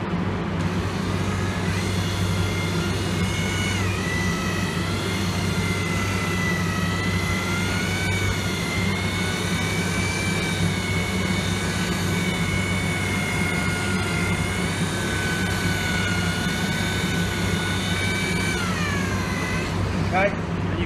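A buffing polisher spinning on car clear coat with compound, a steady loud motor whine whose pitch wavers as it is pressed and moved, with someone talking over it throughout.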